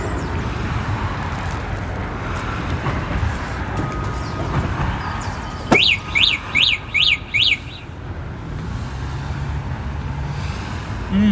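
Outdoor dining in New York City with street noise all around, then a car alarm cuts in with a sharp chirp and five rapid, loud, rising electronic whoops before the street hum returns.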